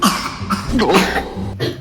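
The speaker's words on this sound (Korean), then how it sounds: "기침이 지금 엄청 심해요." A child with a sore throat coughs in a hospital waiting room: a few close, harsh coughing bursts in quick succession.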